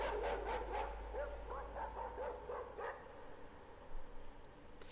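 A dog barks in the horror game Layers of Fear, a quick run of sharp, fairly loud barks and yips that thins out toward the end, with no voices over it.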